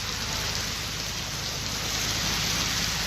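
Heavy monsoon rain in a village in Punjab, Pakistan, a steady, dense hiss of downpour pattering on surfaces, loud and continuous with no talking.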